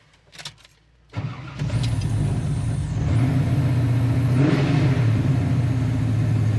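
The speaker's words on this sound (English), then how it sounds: "it's got 3-inch dual exhaust. Really nice sounding exhaust." A 1969 Camaro with 3-inch dual exhaust cranks and starts with a loud bark, then idles heavily and rises into a couple of smooth revs that settle back to a deep, steady rumble.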